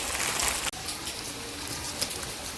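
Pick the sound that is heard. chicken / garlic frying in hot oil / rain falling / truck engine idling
rain falling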